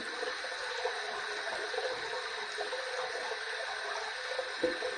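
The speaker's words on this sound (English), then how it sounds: "We're going to heat this up under some hot water." Hot tap water runs steadily over a PAA Alpha Ecliptic slant razor in a bathroom sink. The hiss is constant and moderately close, with faint clinks and splashes along the way and no talk.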